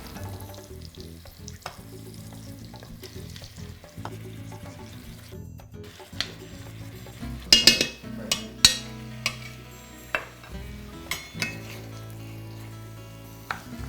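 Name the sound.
squash and onions sizzling, stirred in pan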